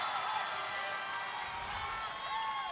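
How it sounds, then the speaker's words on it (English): A basketball crowd at a Solomon Islands versus Fiji game cheers and shouts in a steady, dense roar, slightly distant, with a few whoops rising out of the noise. "And the crowd are right into this one early."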